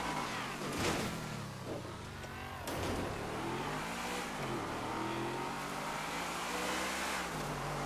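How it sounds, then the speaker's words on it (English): A Rapid GT sports car engine in a racing video game hums steadily and revs throughout, a continuous mid-pitched drone with slight surges and no talking. "Is that a Rapid GT that I can hear?"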